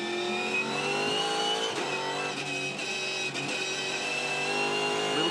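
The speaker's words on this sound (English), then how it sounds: "Bit of evidence of on-off the throttle for Mostert in the background" A 2015 V8 Supercar racing at Ipswich roars steadily while the driver lifts on and off the throttle. A dense, sustained engine howl dips in brief stutters before building back up.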